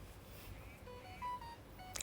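Faint electronic tones from a phone notification sound during an indoor livestream, short beeps scattered through the clip with a brief brighter blip near the end.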